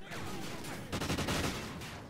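Dense gunfire from Call of Duty: Ghosts, a sustained fusillade of rapid automatic shots that swells louder midway, loud and close with no one talking.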